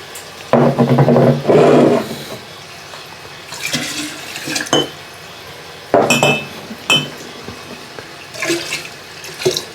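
Distilled bourbon cuts are poured into a glass mixing jar, giving bursts of splashing liquid and sharp glass clinks and knocks at close range in short separate episodes, with no talking.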